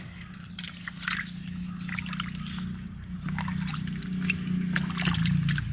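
Cut pieces of raw jackfruit are dropped into water and washed, giving a steady soft trickle and slosh with light splashes close by over a low background hum.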